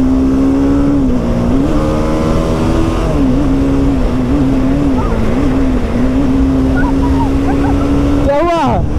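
Motorbikes racing side by side, a steady loud engine drone with rising and falling pitch as they rev, continuous throughout and ending in a sharp upward rev.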